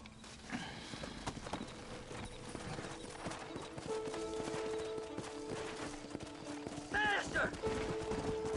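Horses' hooves clop in Red Dead Redemption at a ranch amid a busy scene, with a steady galloping rhythm running throughout, gunfire bursts mixed in, and a horse whinny near the end.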